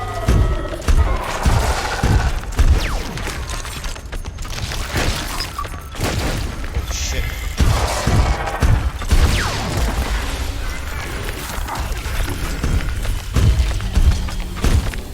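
Heavy weapon fire and explosions in the shooter Ripout, a dense run of repeated booming shots and blasts with rhythmic heavy thumps, loud and close, with almost no talking.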